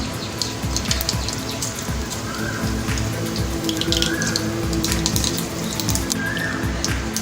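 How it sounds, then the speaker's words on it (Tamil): Mustard seeds splutter in hot oil for mor kuzhambu, a dense, continuous crackle of tiny pops like rain on a surface, close and fairly loud, with no talking. "கடுகு பொரிஞ்சிருச்சு."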